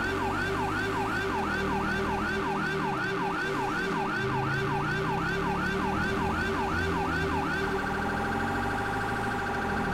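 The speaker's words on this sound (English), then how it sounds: "I also installed a new siren," Modded police siren in GTA 5 LSPDFR, a loud rapid yelping wail cycling steadily for about eight seconds, then switching to a fast warbling tone, over road and engine noise.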